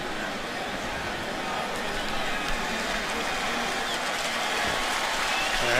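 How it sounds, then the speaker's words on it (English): Crowd applause and cheering fills a football stadium during an NFL game between the Browns and Raiders, a dense, steady roar of many distant hands and voices sustained throughout. "And Jason Campbell, hearing the applause from the crowd."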